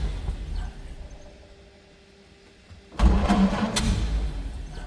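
A 1931 Ford Model A five-window coupe with rumble seat starts up, a quiet low hum giving way at about three seconds to a sudden loud cranking and catching engine that keeps running, close by and rough.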